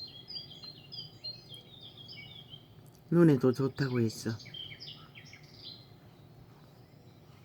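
Forest birdsong played from a tablet speaker, repeated high chirps and trills at low volume over a faint hum, briefly interrupted by a person speaking in the middle.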